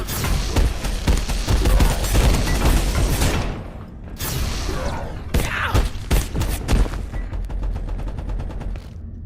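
Rapid video-game gunfire crackles in dense bursts, with a brief lull midway before more sharp shots and a fast rattling volley, under occasional talk.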